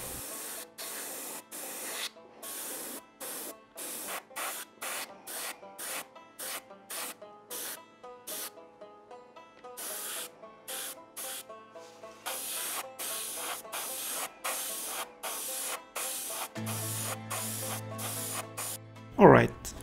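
An airbrush sprays highly diluted Tamiya smoke paint over a 1/72 Academy F-22A Raptor model kit, heard as rapid repeated short hissing bursts separated by brief gaps, close and steady, with a low tone entering near the end.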